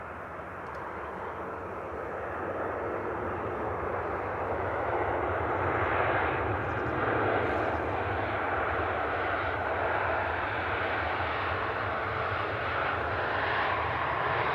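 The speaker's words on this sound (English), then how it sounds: "Beautiful shot of the IAEs on this Lufthansa." Lufthansa airliner with IAE engines passes with a steady broadband jet roar that swells slightly and holds for the whole stretch, moderately loud, with no talking.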